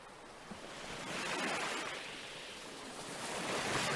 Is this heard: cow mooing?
no